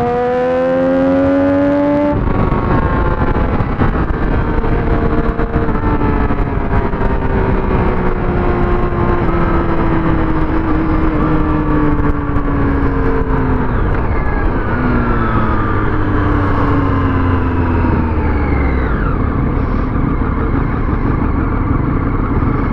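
A stock motorcycle engine, all original parts, revs up after a brief idle, rising and falling in loud, close throttle sweeps that run steadily throughout with no talk.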